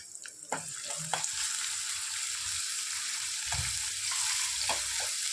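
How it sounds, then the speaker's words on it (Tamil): Asafoetida and chilies frying in hot oil give a steady, close sizzle with a few scraping stir knocks, no one speaking. "கொஞ்சம் பெருங்காயம் போட்டு எண்ணெயில் நல்லா ஒரு வணக்கணுங்க"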